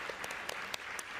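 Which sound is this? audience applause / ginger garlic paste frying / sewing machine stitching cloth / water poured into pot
audience applause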